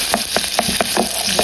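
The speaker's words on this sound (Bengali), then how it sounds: "এখন সেই তেলে পেঁয়াজ দিয়ে দেব।" Onions frying in oil left over from frying an egg, a loud dense sizzle with a regular series of stirring scrapes about every quarter second.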